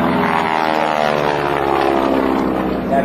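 A North American Texan propeller airplane roars loudly and steadily through an aerobatic hesitation roll at an air show open house, a continuous droning engine with strong harmonic buzz and no pauses.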